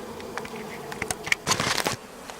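Honey bees buzzing around an open hive during an inspection, a fluctuating drone near and far with a few louder close passes and light rustling of frames.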